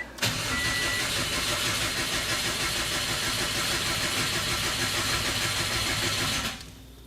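A freshly rebuilt car engine cranked over with the clutch and gas pedal held down to prime its oiling system, a steady loud rhythmic starter churn lasting several seconds, then stopping.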